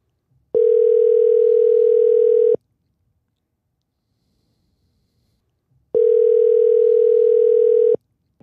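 A telephone ringback tone sounds while a call is placed to a podcast guest: two long, steady tone bursts about two seconds each, separated by several seconds of near silence, clean and loud with no talking.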